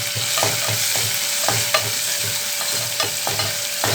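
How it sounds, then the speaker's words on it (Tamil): Dried red chillies, coriander leaves and curry leaves sauté in a pan with a steady close sizzle, while a spoon scrapes and stirs in regular rhythmic strokes. "சேர்த்துட்டு இது நல்லா வதக்கி கொடுக்கலாம்."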